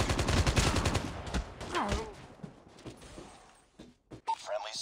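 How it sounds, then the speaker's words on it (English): A hostile sentry gun opens fire in Call of Duty: dense rapid gunfire for about two seconds that thins into scattered shots and mechanical clatter, with a voice heard alongside. "Hostile sentry gun in the"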